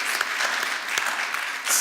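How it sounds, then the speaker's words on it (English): A brief round of applause from a conference audience after a panel discussion, a steady wash of clapping at moderate distance lasting under two seconds. "I do think that deserves a round of applause"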